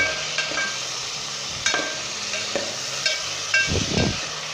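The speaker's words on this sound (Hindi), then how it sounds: "अब दोस्तों 2 मिनट के लिए इसे मैं अच्छे तरीके के साथ जो है अदरक लहसुन प्याज के अंदर भूनूंगा।" Mutton pieces frying with ginger, garlic and onion in a pan for dal gosht, a steady close sizzle with several sharp stirring scrapes and clinks spaced through it; no talk.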